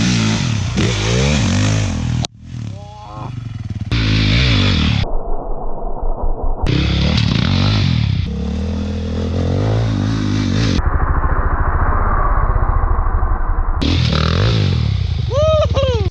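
Dirt bike engine on an enduro ride revving hard through a wheelie jump, loud and close, with repeated throttle bursts, dips and clattering bumps across the whole stretch.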